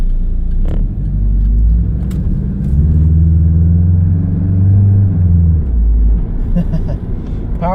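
A 1987 Pontiac Fiero engine revs and accelerates with a loud, steady rumble that swells and eases over several seconds, ending with a brief higher whine.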